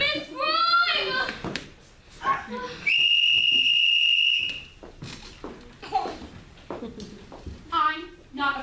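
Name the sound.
whistle blowing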